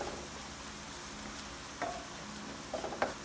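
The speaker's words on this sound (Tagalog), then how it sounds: "Kasama natin sa gisa yung ating atsuite para pumula yung ating niluluto." Garlic and onion sautéing with annatto seeds in a pan give a quiet, steady sizzle with a few soft scrapes and clicks of stirring toward the end, close up and with no speech.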